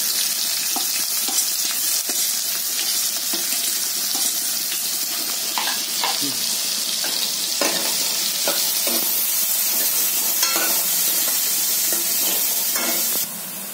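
Onion and curry leaves fry in a pan with a loud, steady sizzle, while intermittent stirring scrapes and clicks cut through the hiss up close.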